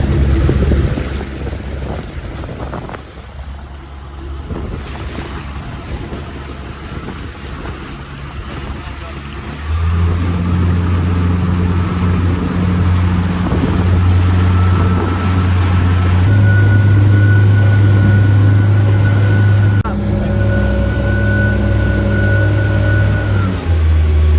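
An outboard-powered boat motors away across Puget Sound during shrimping, its steady engine drone rising and holding loud and close with a shifting pitch, wind buffeting the mic and faint talk beneath.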